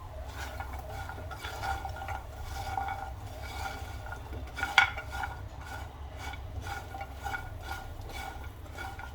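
Dried dates and poppy seeds are stirred as they dry roast in a pan, with repeated scraping and clinking of a spoon on metal, one louder knock midway, and no speech.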